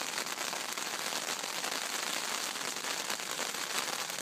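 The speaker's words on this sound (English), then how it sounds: "you can hear the pitter-patter of the rain." Rain patters steadily on a tent, a dense, even crackle of drops that stays soft and constant throughout.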